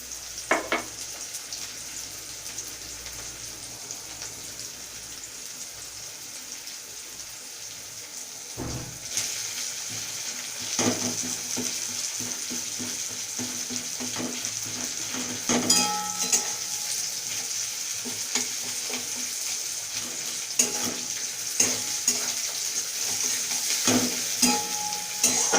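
Sliced onions fry with crushed cardamom and cinnamon for chicken kosha. A continuous close sizzle is broken by repeated scraping stirs of a spoon in the pan.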